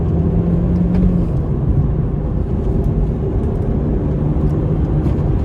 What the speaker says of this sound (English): Let's go for third, shall we? Let's really try and unsettle it.